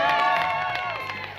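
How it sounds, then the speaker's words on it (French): A festival audience at an evening show applauds and cheers, a loud dense wash of clapping and whoops that holds steady for a second and a half before easing slightly. "Merci beaucoup, applaudissez-vous."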